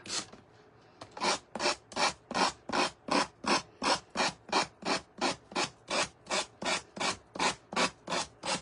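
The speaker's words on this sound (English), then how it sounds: "You've sanded fabric, but it works." Fabric is sanded by hand in steady, even back-and-forth strokes, about twenty rasping rubs in a regular rhythm, close and clear, with no voices.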